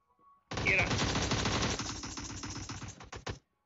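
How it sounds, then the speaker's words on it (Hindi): Dense automatic gunfire from PUBG, a rapid continuous burst of loud shots up close that thins into scattered final rounds before stopping. "आते ही फायरिंग चालू कर दिया इसने तो"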